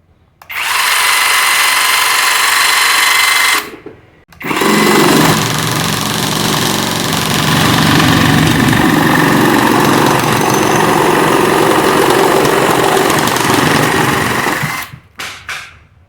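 A cordless jigsaw set to a lower speed cuts with a loud, continuous buzzing drone, briefly stopping near four seconds before running steadily again and cutting off near the end.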